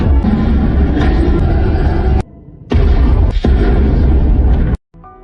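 A bomb explosion from the Super Mario Bros. Movie roars in loud, dense blasts, one long booming burst, a brief drop, then a second sustained rumble that cuts off abruptly.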